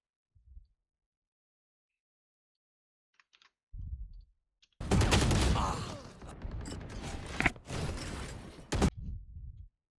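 Gunfire in a first-person shooter game comes as a couple of short bursts of rapid shots after a few faint clicks and thumps, loud and close, separated by short gaps.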